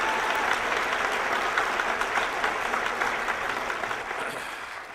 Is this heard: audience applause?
yes